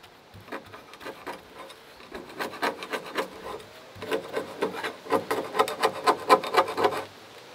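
Someone sands a wooden door by hand in quick, rasping back-and-forth strokes. The bursts come in uneven runs, starting soft and growing louder and denser toward the end.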